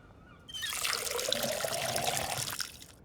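Watering plants in the video game Schedule 1 produces a continuous trickle of water that starts abruptly, flows steadily for about two seconds and then stops, heard alone with no talking.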